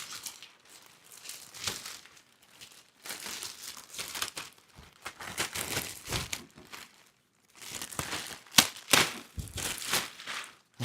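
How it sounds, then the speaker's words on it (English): Plastic packaging bag on a matte black mountain bike cargo trailer being cut away, a run of loud crinkling and tearing bursts with short pauses between them, close up and with no talk. "let's cut the bag out of the way"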